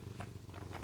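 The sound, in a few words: cat Barry purring in lap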